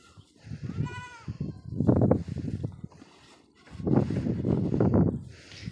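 Young goats bleat repeatedly at a farm during Eid al-Adha, their cries close and fairly loud, in two noisy bursts over a steady outdoor background.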